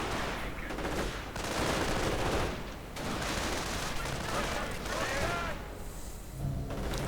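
Dense gunfire from assault rifles and Gewehr 43 rifles carried by panzer grenadiers in a World War II strategy game, sustained bursts and volleys rolling almost without pause over a busy battlefield, with a commentator's voice running over it.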